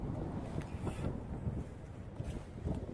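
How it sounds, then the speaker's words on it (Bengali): Gusty wind blows across the cold high desert on the ride to Muktinath, a steady broadband rush buffeting the microphone with close, unbroken roar and occasional stronger gusts. "আর হাওয়াও বইছে, সেরকম সেরকম হাওয়াও বইছে"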